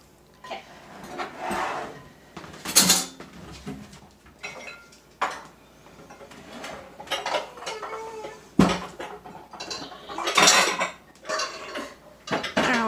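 Mixing bowls are pulled out and handled in a home kitchen while baking bran muffins, with several sharp clinks and clatters of bowls and utensils amid quieter rustling and shuffling.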